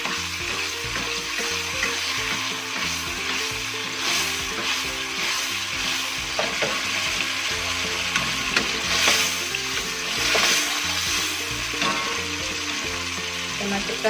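Shrimp for an Aceh-style stir-fry sizzles steadily in a hot pan while a utensil stirs and scrapes through it in repeated close strokes.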